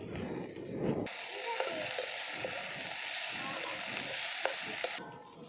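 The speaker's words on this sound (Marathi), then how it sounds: "भेंडी मधून हलवून घेऊ" Okra sizzles in a hot pan while a spoon stirs it, with a steady frying hiss and repeated sharp scrapes and clinks against the metal, close up and without talk.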